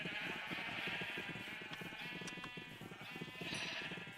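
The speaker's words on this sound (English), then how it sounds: "I'm gonna give the last 2 to the sheep," Sheep in the game Minecraft bleat over and over in a dense, overlapping chorus, several animals calling at once at close range, steady throughout with no talking.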